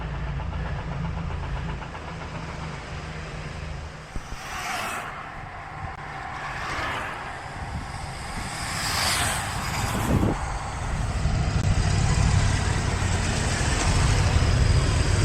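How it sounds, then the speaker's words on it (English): Motorbikes passing on a mountain road near the Sella Ronda in the Dolomites, a steady rumble of engines with several louder swells as machines go by, the noise building toward the end. "Motorbikes, motorbikes, motorbikes."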